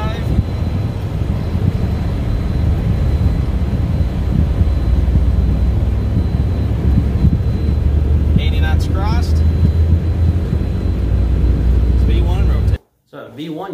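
An Embraer Phenom 300 business jet on its takeoff roll, heard from the cockpit as a loud, steady engine roar and rush that holds throughout, with crew voices talking over it before the sound cuts out abruptly near the end.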